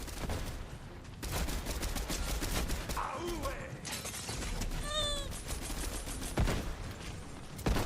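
Rifle gunfire in a video game, dense rapid shots running almost continuously under game noise, with a short meow-like tonal sound in the middle.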